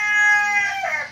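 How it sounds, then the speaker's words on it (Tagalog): A red rooster gives a short, loud, close crow with a brief cluck-like tail from the surrounding red chickens, lasting about a second. "Pasensya na sa mga manok na pula natin."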